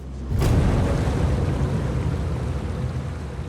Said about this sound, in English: A river blocks his path, and Ken knows just how deadly this might be.